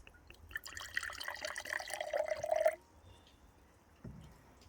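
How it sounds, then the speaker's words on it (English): Homemade fermented cream soda just opened, giving a soft close fizz and trickle of light bubbling for a few seconds, then fading to quiet with a small bump near the end. "Again, a little bit of bubbling, but not a huge amount."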